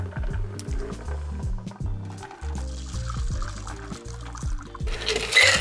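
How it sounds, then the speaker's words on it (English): A cocktail is poured through a Hawthorne strainer over ice into a rocks glass, a close, gurgling liquid stream with clinking ice and rhythmic splashes, ending in a brief hiss. "now what we'll do is we'll just use our Hawthorne strainer and pour it on top"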